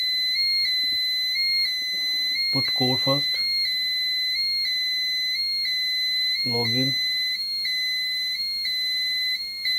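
A Pyronix EURO 46 alarm panel emits a steady two-tone electronic beeping throughout after a confirmed alarm, with a person speaking briefly over it.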